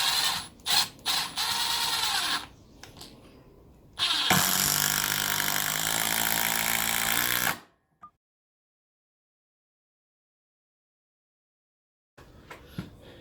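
Milwaukee M12 Gen 2 FID impact driver running in loud sustained bursts, first in short stuttering pulses and then a long continuous whirring, hammering run, followed by silence and a faint restart near the end.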